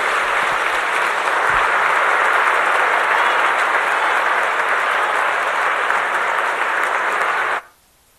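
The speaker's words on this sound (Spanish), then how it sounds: "Que se escuche ese fuerte aplauso para el doctor Castañón." Loud, sustained audience applause for Doctor Ricardo Castañón, a thick even roar of many hands clapping that cuts off abruptly near the end.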